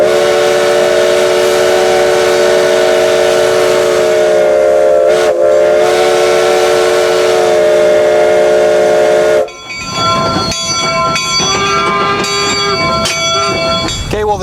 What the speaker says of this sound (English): I love to blow whistles.